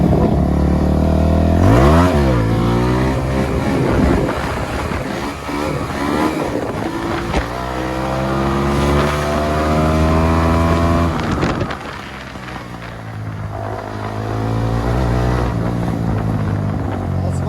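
A Kawasaki NK250 motorcycle engine while riding on city roads, loud and close, rising and falling steadily as the rider accelerates through the gears and eases off, with the rising pitch of each gear clearly audible.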